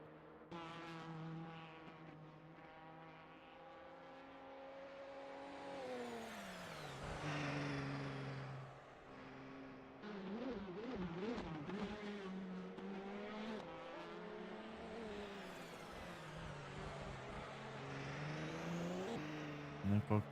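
LMP1 and LMP3 prototype race cars cross the finish line at Silverstone, their engines droning and sliding up and down in pitch as they pass, with a voice talking over them throughout.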